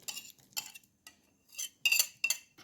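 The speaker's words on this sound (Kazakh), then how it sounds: "енді осыны араластырып аламыз." A utensil scrapes and clinks against a bowl in short, rhythmic bursts as finely chopped tomatoes are stirred into a milk-free pancake batter, close and clear with no talking.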